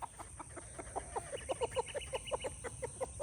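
Chickens on a farm cluck in a steady run of short, bright calls that grow louder and denser, close by over a low background hum.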